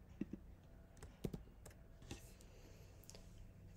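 Computer keyboard typing, a short burst of quiet clicking keystrokes in small clusters, close and faint over a steady background hum.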